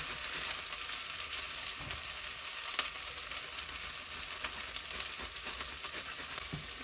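Chopped garlic frying in a hot pan gives a steady, dense sizzle throughout, with a few faint scraping stirs and small pops under the continuous crackle.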